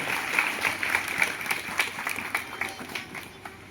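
Audience at a school admission festival event clapping for the teachers and principal, a steady mid-distance patter of many hands with no voices over it.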